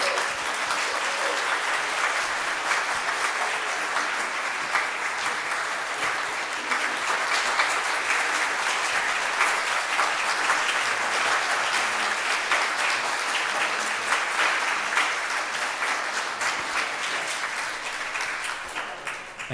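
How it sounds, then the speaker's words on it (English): A congregation at Sunday morning worship applauds new members, a steady round of clapping from a large crowd that holds evenly for about twenty seconds before tapering slightly at the end. "Please join in giving these new members a nice round of applause."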